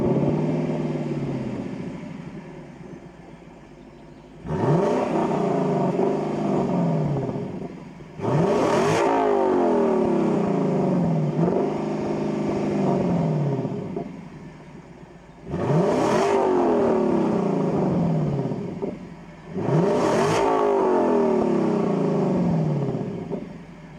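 A Lexus LC500 V8 revs hard through acceleration runs, four loud surges that climb in pitch and then fall away, each separated by a brief lull at a lower engine drone, heard close.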